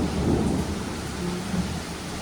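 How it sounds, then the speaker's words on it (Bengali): Low rolling thunder rumbles through a storm with rain falling steadily, one continuous deep growl in the middle distance. "মেঘ ডাকছে।"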